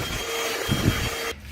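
A handheld THISWORX portable car vacuum cleaner running at high power inside a car, a loud steady motor whine and airflow rush with a brief shift in pitch before cutting off abruptly near the end.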